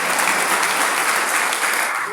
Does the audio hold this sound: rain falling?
no